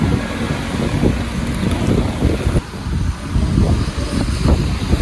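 Gusty wind blows along a main road in rainy New York, a loud, low, buffeting roar on the microphone, mixed with a rumble like passing traffic.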